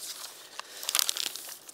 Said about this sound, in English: I'm gonna fold the paper.